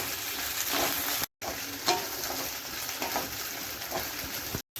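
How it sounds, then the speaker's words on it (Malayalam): Sliced okra sautés in hot oil in a pan for a Kerala-style okra, onion and tamarind curry, giving a continuous close sizzle with soft stirring scrapes, broken by two brief silent cuts. "വെണ്ടയ്ക്ക ചേർത്ത് കൊടുത്തൊന്ന് അതിൻ്റെ വഴുവഴുപ്പൊന്ന് മാറുന്ന വരെ നമുക്കൊന്ന് വഴറ്റിയെടുക്കാം"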